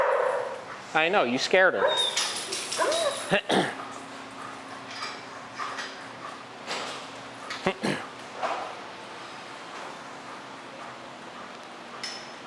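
A resource-guarding dog lets out a few sharp barks and quick snaps in a short flurry near the start, then a whimper and a single later yip, with people talking quietly over it.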